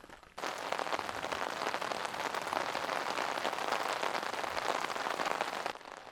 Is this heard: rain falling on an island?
yes